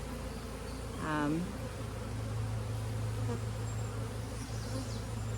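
Honey bees hum steadily around an open hive during a pest and disease survey inspection, a continuous close buzz with one brief louder swell near the start and no talk.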